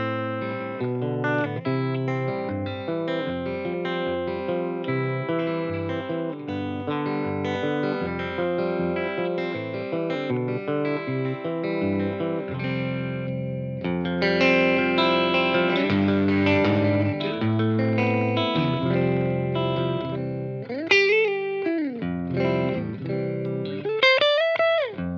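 Electric guitar through a 5E3 Tweed Deluxe amplifier, picked notes and chords ringing with light breakup and reverb, then bending, swelling phrases toward the end; loud and close, no talking.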